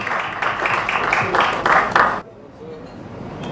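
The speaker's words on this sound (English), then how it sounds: "A round of applause," Audience applause greets a UK representative of the World Sustainability Organization as he is introduced at a Uganda trade and investment convention. The clapping is steady and fairly close, then cuts off sharply about two seconds in, leaving quiet room tone.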